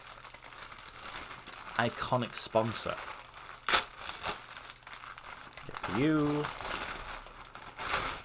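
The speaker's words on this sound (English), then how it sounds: "Sorry for all the rustling, as always." A blue and white football shirt being handled: crisp crinkling and rustling in irregular bursts, with someone talking steadily over it.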